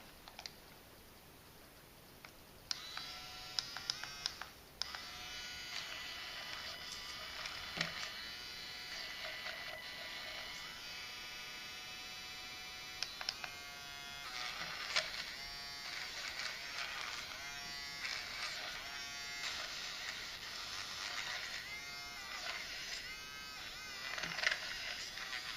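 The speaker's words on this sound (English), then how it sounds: "All right, let's try the polisher." A small electric nail polisher from a 360 two-in-one clipper and polisher set runs with a high, buzzing whine, stuttering on and off as it is pressed against a nail, close and fairly steady.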